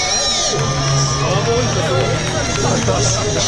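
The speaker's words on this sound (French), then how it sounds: "Applaudissez plus fort, plus fort, plus fort" Spectators at the start line of a 120 km mountain trail race cheer, whoop and clap loudly, a dense roaring crowd heard close up throughout.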